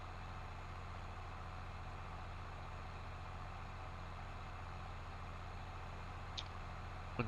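A tractor engine in Farming Simulator 22, pulling a disk in early winter, runs as a continuous low drone, holding steady with a faint click near the end and no talking.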